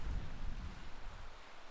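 Steady low rumbling wind buffets the microphone throughout in Red Canyon, Utah, a continuous blustery roar with no voices.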